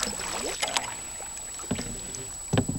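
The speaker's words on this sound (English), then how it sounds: "here we can just glide the kayaks straight into the shore, right onto the sand below the van" Kayaks gliding in to a sandy shore on a Scottish coast, with a few soft water knocks and hull scrapes against steady wind and lapping water.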